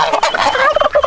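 A young farm turkey gobbling close by, a quick burst of warbling, rattling gobbles lasting about a second, loud and alone.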